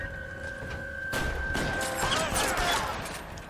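Gunshots in the video game L.A. Noire come as a loud burst of several quick shots and cracks over a background hum, then fade into echoing rumble.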